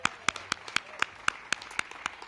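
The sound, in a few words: audience clapping at a housing celebration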